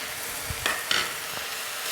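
A spoon stirs tutti frutti through sweet zarda rice in a pot, with a few soft scrapes and clinks over a quiet background hiss.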